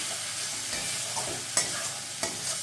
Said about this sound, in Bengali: ধনে জিরে শুকনো লঙ্কার পেস্টটা দিয়ে দিলাম দিয়ে ভালো করে একটু কষিয়ে নেবো